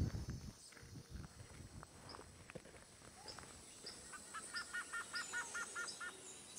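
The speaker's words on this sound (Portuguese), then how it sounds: "Sem querer, acabamos acordando os passarinhos com a luz das nossas lanternas." Several birds chirp and call in a dark, muddy forest at night after being startled by flashlight beams, with short bright repeated tweets growing busier toward the end over soft footsteps and rustling.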